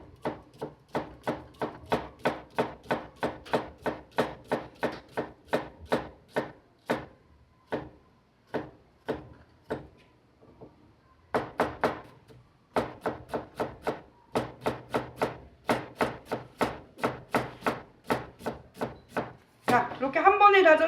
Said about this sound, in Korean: 이렇게 한 번에 다져서 얘네가 모양이 이쁘면 너무 좋은 거고, 만약에 크다고 생각하면 조금 더 다져 놓습니다